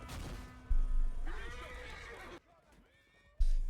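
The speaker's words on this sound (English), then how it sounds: "I'm just here to provide some tips to extend the duration of your time on this beast" A horse whinnies in Chivalry 2, a medieval combat video game, with a drawn-out neigh near the middle, heavy thuds and game noise around it, and a brief quieter stretch before the sounds return.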